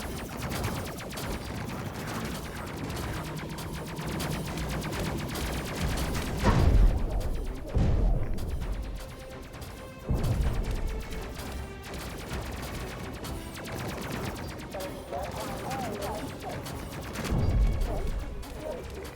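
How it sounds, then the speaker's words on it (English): A missile launcher in the Space Crew video game fires many missiles in rapid bursts, heavy booming volleys that crack out several times amid busy battle noise and a talking voice. "Fire that many missiles, it's more like a gun than it is a missile launcher."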